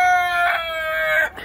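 Several chickens calling close by, drawn-out clucks and a crow-like cry overlapping, fairly loud, with no talking.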